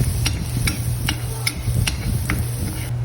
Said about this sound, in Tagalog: Maggisa ng sibuyas at bawang.